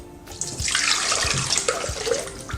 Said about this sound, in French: Dans le bol du Thermomix, on va verser 430 g d'eau